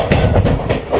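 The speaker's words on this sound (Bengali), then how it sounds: "এই ট্রেনটা কাটোয়া যাচ্ছে, এটা হচ্ছে শিয়ালদা কাটোয়া" Sealdah–Katwa local train passing close by, loud rhythmic clickety-clack of wheels over rail joints, repeated beats with no voices.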